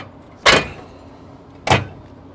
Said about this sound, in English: Simply pull it out.